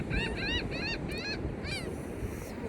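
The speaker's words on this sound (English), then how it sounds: "I love this medicine of these birds right now." Geese or similar waterfowl honk outdoors in a series of nasal calls, a few clustered together and then more spaced, moderately distant over steady wind noise.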